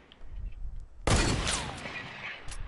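Gunfire in the Fortnite video game, a sudden loud burst of shots that rings out and decays over a low background, with a quieter crack near the end.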